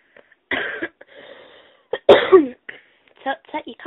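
A person coughs a few times in short, harsh bursts, with brief pauses between, close to the listener in a quiet room.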